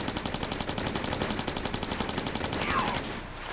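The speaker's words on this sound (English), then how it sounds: "I'm going to go with the Uzis this time" Uzi fire in a Tomb Raider level editor game: a rapid, evenly spaced burst of close, loud shots for about three seconds, then it stops.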